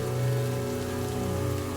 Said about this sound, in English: As the rain continued to pour